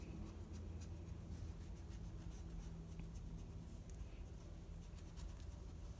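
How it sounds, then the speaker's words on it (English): A pencil draws lines on paper, making a quiet, continuous scratching at close range with no pauses. "I'm going to draw just a couple more lines to show some movement"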